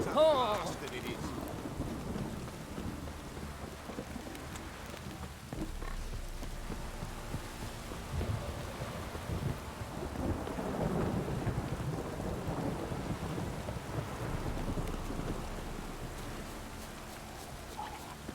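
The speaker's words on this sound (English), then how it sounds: "This downpour's a bastard it is." Heavy downpour and thunder in The Witcher 3: Wild Hunt: steady rain hisses throughout while deep thunder rumbles roll in and swell, starting with a close crack and building again midway, with faint talk underneath.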